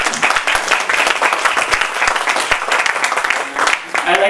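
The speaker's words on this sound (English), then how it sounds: "A loud round of applause." An audience claps in a dense, sustained round of applause, loud and close, with no one speaking over it.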